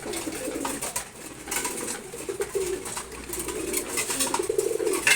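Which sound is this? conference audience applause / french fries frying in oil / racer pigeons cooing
racer pigeons cooing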